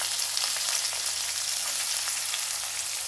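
Chopped onion sizzles in hot oil with fennel and cumin seeds, a dense, steady hiss of frying heard close up with faint stirring and no voices.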